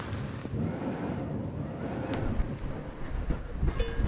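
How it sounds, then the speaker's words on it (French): Steady rough, gusty wind buffets the microphone outdoors in the Pyrénées-Orientales, a continuous low roar with slight swells and no voices. "Il y a du vent dehors. Par moments, il y a des rafales"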